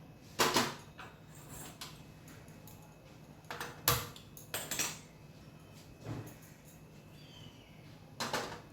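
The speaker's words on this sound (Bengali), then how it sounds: "ততক্ষণ আমি কড়াটা বসিয়ে দেব।" A wok (kadai) is set on a kitchen stove with a few sparse metallic clanks and knocks, close and fairly quiet, separated by near silence.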